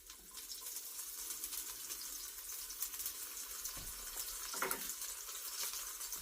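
Hot oil crackles and pops in a pan as green onions go in for beef lo mein, a steady close sizzle with a few sharper bursts, no talking.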